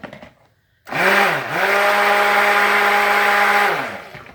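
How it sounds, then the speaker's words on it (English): A blender whirs loudly mixing soap batter with a steady motor drone, dips briefly as it restarts, then runs on evenly before cutting off. "I don't want to do too much with my blender."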